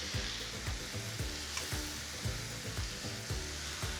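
Salted spinach sizzling in a pan, a close steady fry hiss with a regular rhythm of low thumps as it is stirred.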